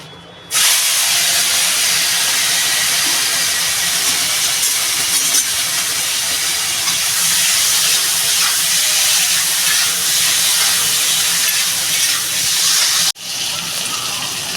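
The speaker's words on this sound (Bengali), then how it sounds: "আমি চিংড়ি মাছটা ভেজে নেব" Prawns frying in hot oil in a wok give a loud, steady hiss that runs almost the whole time and breaks briefly near the end.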